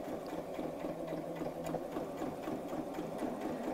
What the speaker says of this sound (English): this is just tacking or basting the pieces together as I sew.